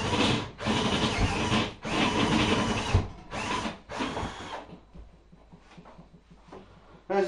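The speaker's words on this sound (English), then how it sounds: "I'm using a uni bit or a step drill" A step drill bit grinds a large-diameter hole in a beer fridge in several loud, harsh bursts about a second long each, then quieter scraping and short gaps.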